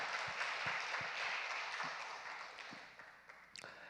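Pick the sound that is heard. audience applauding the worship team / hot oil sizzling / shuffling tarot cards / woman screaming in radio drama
audience applauding the worship team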